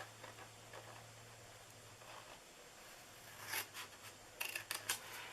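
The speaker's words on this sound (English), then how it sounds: "scissors and you're just going to fold it in half and then cut down one side like that, and then cut down the other side" Scissors snip through folded paper for a Valentine treat holder, a few quiet cuts early on, then sharper, louder snips clustered near the end over a low background hum.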